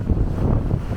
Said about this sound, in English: The waves coming in and out.